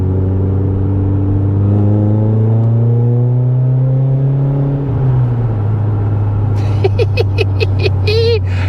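A loud modified car exhaust drones and rises in pitch as the car accelerates on an open road, then sharp crackling pops burst out as the throttle lifts.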